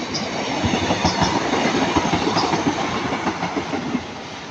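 A Class 150 diesel train rumbles past at Ardwick, a loud, continuous roar of engine and wheels with rhythmic clickety-clack over the rail joints, fading slightly at the end, with no talking.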